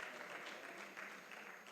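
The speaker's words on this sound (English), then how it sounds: "it deserves a much louder applause" Workshop audience clapping after a presentation, a brief, faint but even patter of hands heard from a distance, continuous and without voices.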